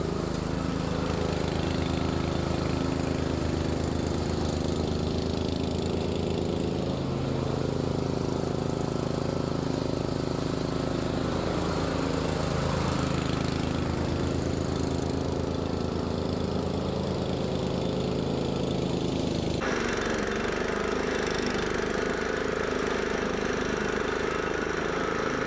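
A Dewalt 33-inch wide area lawn mower drones steadily and loudly while mowing an extremely overgrown yard, its engine note shifting slightly under load before a sudden change in tone near the end, with no voices.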